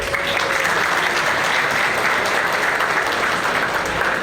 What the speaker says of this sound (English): NYPD Muslim Officer Society deserves a huge round of applause